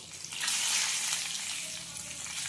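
Whole spices (cumin, cinnamon stick, cardamom, cloves, a bay leaf and dried red chilli) sizzle in hot oil in a home kitchen, a steady close hiss with a soft bubbling crackle throughout.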